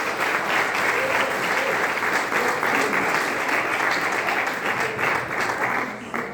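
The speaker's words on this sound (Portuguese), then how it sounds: "Vamos aplaudir o nosso Rei Jesus" A church congregation applauds together at an evening service, dense sustained clapping from many hands filling the room steadily for several seconds, with a few voices faintly mixed in.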